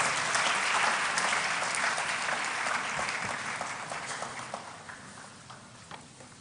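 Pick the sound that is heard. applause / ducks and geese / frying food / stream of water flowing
applause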